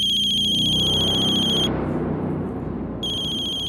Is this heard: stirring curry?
no